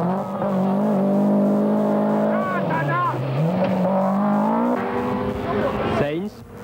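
A Toyota Celica rally car at a 1989 rally roars loudly and close, its engine rising and falling through revs before a sharp cut near the end, with a commentator talking over it throughout.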